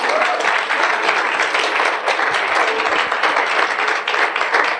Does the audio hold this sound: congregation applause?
yes